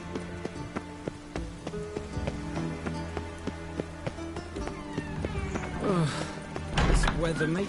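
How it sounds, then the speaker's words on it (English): Steady rain falls over an outdoor scene in The Witcher 3, a continuous patter under a busy game soundscape with music, hoofbeat-like clops and a voice speaking partway through. "Rain again. Damn mages."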